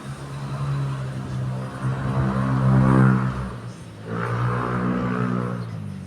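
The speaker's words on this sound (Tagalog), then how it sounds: "may dumaan na sasakyan" A car engine hums and swells as the vehicle passes in the Albay and Sorsogon countryside of the Philippines. The loud, steady drone rises to a peak, dips, then swells again with no talking.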